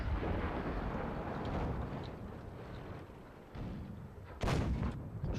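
Tank cannon fire in the video game World of Tanks: deep, rumbling booms over a continuous low battle drone, with a sharper blast near the end, no speech over it.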